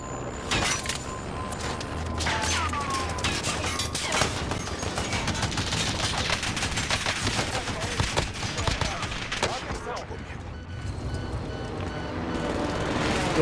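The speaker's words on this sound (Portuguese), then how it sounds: "Vai da prisão me dando tiro." Gunfire in Call of Duty: Warzone crackles in dense, rapid bursts, loud and nearly continuous, with overlapping shots and game effects.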